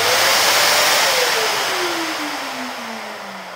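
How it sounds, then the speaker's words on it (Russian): A household vacuum cleaner runs close by with a loud broadband whir, its motor pitch gliding steadily downward as it winds down. "А потом уже начинаем спокойно пылесосить."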